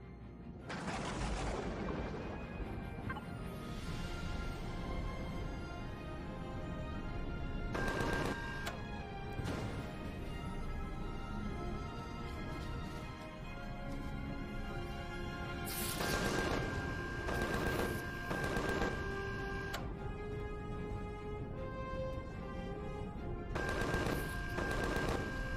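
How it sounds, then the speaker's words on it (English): Turret in predator mode firing in Empyrion Galactic Survival, a long stretch of dense automatic gunfire with repeated bursts and loud impacts under a constant game backdrop, no talk. "I may have to turn on the turret's predator mode."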